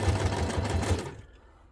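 A sewing machine stitching small scraps of paper onto junk journal pages runs in a fast, steady chatter for about a second, then stops.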